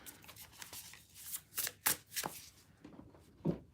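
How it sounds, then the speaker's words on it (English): Playing cards are shuffled in quick riffling bursts with brief pauses between them, close and fairly quiet. "I actually want to shuffle these other cards"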